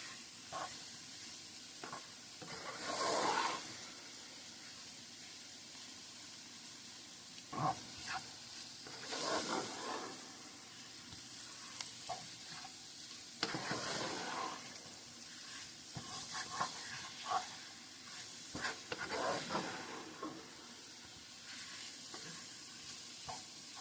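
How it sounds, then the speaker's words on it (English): Flour roux stirred and sizzling in a hot pan for French onion pasta with chicken sausage, a steady close frying hiss broken by repeated scraping strokes of the spoon. "we're just going to stir this until all that flour gets nice and coated. We are making a roux"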